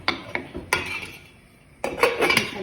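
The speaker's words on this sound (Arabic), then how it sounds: "جاي نقلب الدجاج" Chicken being stirred in a pot for Iraqi kabsa: a few sharp metallic clinks and scrapes of a utensil against the pot, in two clusters separated by a short lull, close and fairly clear.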